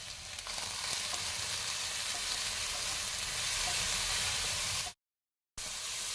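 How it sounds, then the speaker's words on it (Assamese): Chengmora greens with salt and turmeric frying in a pan over a medium gas flame give a steady, close sizzle and hiss that runs unbroken for about five seconds, then cuts out briefly before resuming. "এয়া এতিয়া মই গেছটো মিডিয়ামত থৈছোঁ। এনেকৈ ভাজি লওঁ"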